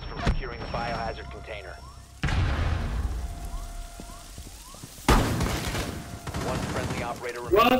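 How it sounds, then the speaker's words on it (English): Loud, sudden bursts of gunfire in the tactical shooter Rainbow Six Siege ring out twice, each followed by sustained crackling, with excited voices talking over the action. "I know I fucking heard a gun"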